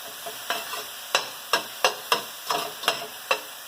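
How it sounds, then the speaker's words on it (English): Meatball ingredients sautéing in olive oil in a pan, a steady sizzle broken by regular scraping strokes as a utensil stirs the mixture, close and clear. "So I'm just going to saute this up."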